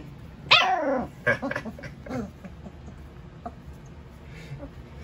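A German Shepherd puppy fussing with a sharp yelp followed by several short whiny barks and growly grumbles, close by, fading into quieter whimpers.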